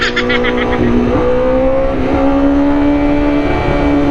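A motorcycle engine revved at full throttle in first gear, loud and close, giving a steady high droning whine that holds and climbs slightly throughout with no pause.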